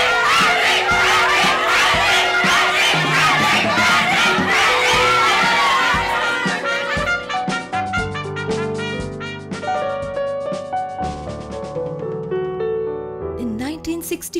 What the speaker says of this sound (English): the campus resounds with the tramp of determined feet marching, yelling for their favorite candidate